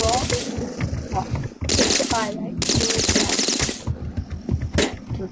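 Gunfire in the Boxhead 2 player video game, rapid bursts of shotgun and machine-gun shots in clusters, with players talking over the shooting.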